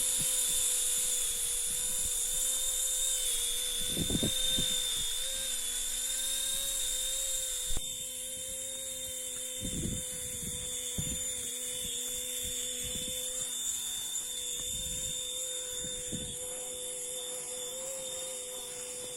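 An RC model EC145 H145 civil-security helicopter hovers steadily, its high electric motor whine and rotor hum continuous and close, with a few brief clicks and thumps scattered through.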